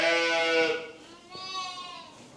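Sheep bleating on a farm, a couple of wavering, drawn-out bleats close by, one after another, with no talk over them.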